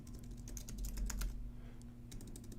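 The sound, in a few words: typing on a computer keyboard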